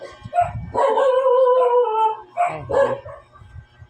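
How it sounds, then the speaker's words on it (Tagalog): A dog close by lets out drawn-out, howling barks with whiny yips between them, loud and repeated over a few seconds. "maingay ang aso"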